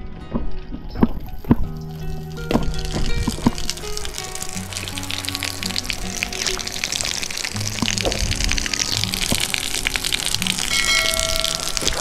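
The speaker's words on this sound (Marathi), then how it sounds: "थंड पाण्याने मस्तपैकी चेहऱ्यावरती मारलं." Cold water splashed onto the face by hand at Peb Fort near Matheran, a run of wet slaps and pours that swell into a steady, close watery rush over outdoor background noise.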